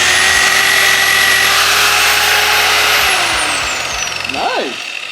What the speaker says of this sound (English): Oh yeah, give it a little sand.